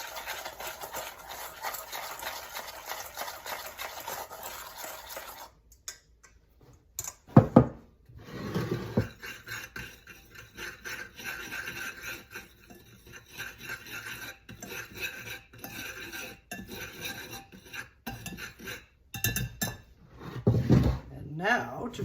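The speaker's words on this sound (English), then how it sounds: "we're going to blend these seasonings in well with our flour" A utensil rasps and scrapes steadily against a bowl as seasonings such as garlic powder are stirred into flour, the scraping going on for a long stretch in between bursts of a person talking.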